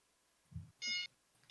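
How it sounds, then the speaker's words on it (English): A silenced phone's alarm gives one short, faint electronic tone, preceded by a soft thump and followed by another brief quiet sound. "Even though my phone is silenced, still the alarm goes off."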